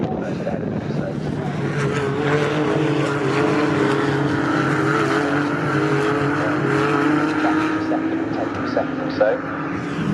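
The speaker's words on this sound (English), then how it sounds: "So out to the back straight come the cars in 4th, 5th and 6th positions." Porsche Sprint Challenge race cars roar down the back straight at Snetterton, a steady loud engine drone filling the whole stretch with shifting pitch as several cars pass, while a commentator talks over it.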